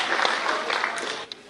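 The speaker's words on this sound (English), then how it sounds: "let's give each other, in fact all of you, a huge round of applause" An audience at a government award ceremony for athletes breaks into a short burst of dense clapping that fades slightly at the end.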